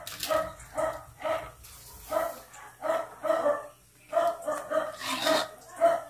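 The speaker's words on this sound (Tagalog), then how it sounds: "Sama naman ng aso. Ang ingay." A dog barking repeatedly nearby, about a dozen loud, evenly spaced barks in a steady rhythm, heard in a home kitchen during cooking.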